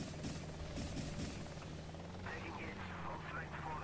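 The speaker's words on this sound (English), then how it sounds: "So I'll quickly jump to my helicopter." A helicopter in the game Hostile Waters: Antaeus Rising gives a steady low engine and rotor drone under continuous talking, with a brighter whine joining partway through.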